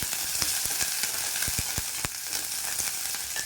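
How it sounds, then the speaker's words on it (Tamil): Curry leaves and onions sautéing in a hot pan, a dense continuous sizzle with sharp regular taps and scrapes from stirring, close and alone. "கருவேப்பிலை கொஞ்சம் இதை நல்லா வதக்கிக்கலாம்."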